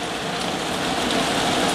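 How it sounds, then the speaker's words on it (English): Hail falls hard during a July 2021 thunderstorm in Queensbury, a dense, loud, unbroken hiss and patter of stones striking surfaces close by. "I'm actually very happy I had hail in this situation where I live"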